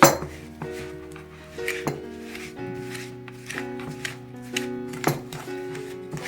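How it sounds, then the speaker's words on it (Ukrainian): A fork clinks and scrapes steadily against a bowl while stirring butter and sugar, with repeated rhythmic metallic taps close by and no speech. "Розмішуємо виделкою."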